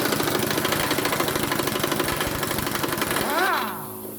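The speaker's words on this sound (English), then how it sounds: "My compressor's not fully charged, but so let's see if it's got enough to remove these" A running air compressor drones loudly and steadily with a rough pulsing chug while John Deere S130/S140 mower deck blades are being removed, then a brief whine near the end before it eases off.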